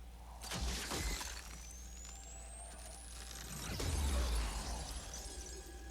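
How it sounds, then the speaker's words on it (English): A Mortal Kombat 11 character shatters into pieces in a loud crash of breaking debris over a low rumbling game backdrop, with a rising whoosh and a second heavy impact near the end. "That actually shatters Shang Tsung to like 100 pieces."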